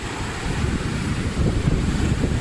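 Atlantic Ocean waves on the Spanish coast, with wind, make a continuous dense rush of surf and buffeting wind noise, swelling slightly louder after the first half second.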